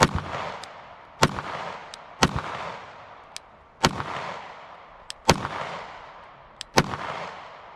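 Springfield 43X pistol fired one-handed, a series of sharp, loud shots at uneven intervals, about six main reports with fainter echoing cracks between them, each followed by a short decaying ring.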